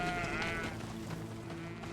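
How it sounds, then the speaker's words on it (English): Goats in the Greedfall video game let out wavering, nasal bleats over a steady ambient bed, close and fairly loud through the short stretch. "Oh, hello, goats."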